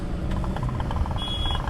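A traffic jam of cars and motorcycles on the Bosila bridge produces a dense, steady low engine rumble up close, with a faint high whine and distant beeps over it.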